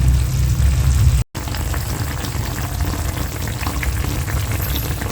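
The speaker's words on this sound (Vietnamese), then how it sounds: "Mắm chiên ba rồi trong một buổi chiều mưa nữa." Fermented snakehead fish and pork belly sizzle loudly in a pan on a rainy afternoon, a dense, steady crackle with one brief dropout, close up and without talk.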